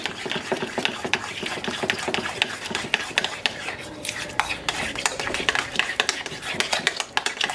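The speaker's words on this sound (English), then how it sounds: "2 beaten eggs. So let's mix this in." Rapid, steady clicking of a utensil against a bowl as two beaten eggs are mixed into a dessert batter, close and continuous with a brief pause midway.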